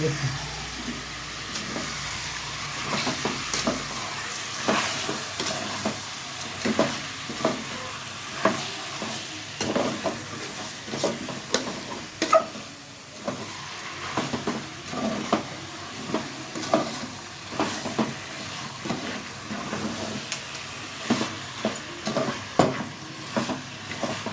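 Mandya-style chicken gravy cooks in a pan, with steady sizzling broken by repeated scraping stirs at close range.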